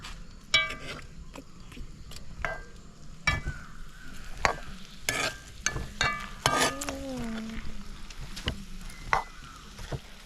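Onions stirred in a pan for chilli chicken curry, with repeated sharp scrapes and clacks of a spoon against the pan over a faint sizzle, irregular and close, plus a brief vocal sound partway through.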